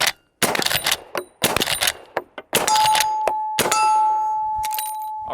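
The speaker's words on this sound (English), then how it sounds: "I'm gonna shoot the next 2 at steel, just so you can hear how quiet this gun can be with subsonic rounds" Two suppressed shots from a Henry SPD CRUSR .45-70 lever-action rifle firing subsonic rounds, each a muffled crack followed by a bright ringing ping of steel targets, the last ring sustained; outdoor range setting.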